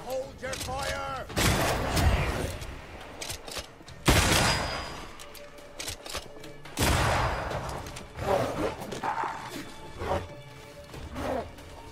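Gunfire in the video game Banishers: Ghosts of New Eden, several sharp loud shots and bursts breaking out at intervals during an attack on a fort, with voices calling out between the blasts.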